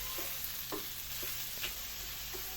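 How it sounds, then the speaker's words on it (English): Onions and garlic sautéing in a home cooking pot, a soft steady sizzle with a few light stirring scrapes and clinks, fairly quiet and with no talking. "So I am just going to put some onions in my pot, some garlic. I'm going to saute that for a little bit."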